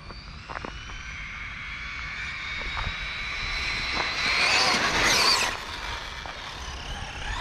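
Team Losi Racing 8ight 3.0 RC buggy with a nitro engine buzzes steadily at a distance, its pitch rising and swelling louder as it passes, then easing off, outdoors with occasional faint knocks.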